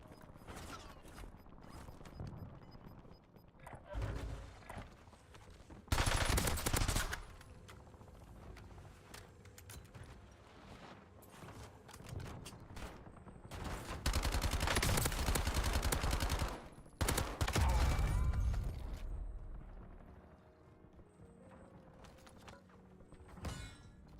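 Gunfire in a combat setting, bursts of automatic fire that come in loud sustained stretches between quieter spans of scattered shots and mechanical clatter, with no talk.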